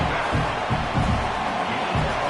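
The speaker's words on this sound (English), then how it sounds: "the crowd coming to life here, trying to help this defense down in the red zone" A football stadium crowd roars steadily as fans come to life to back their defense in the red zone, a broad continuous wash of cheering with faint whoops and no clear voice on top.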